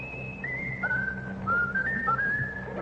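A man whistles a tune, with a clear solo melody of several sliding, held notes over low room background and no talking.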